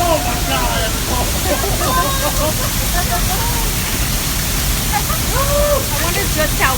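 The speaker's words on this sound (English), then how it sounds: "Waterfall right there." A massive waterfall roars as a broad, loud, steady wash of water noise at close range, with excited voices and squeals over it during a zip-lining outing.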